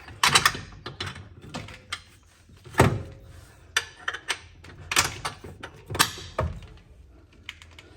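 Sharp metallic clicks, taps and clunks of a bolt being worked into the front strut of a Holden VT–VZ Commodore, scattered irregularly and close up, with no talking.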